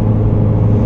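A Mazdaspeed pulling away hard with its tires spinning and no traction, a loud, steady, close engine drone and low rumble running the whole second with no break.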